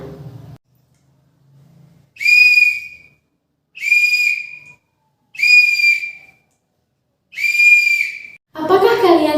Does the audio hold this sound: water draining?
no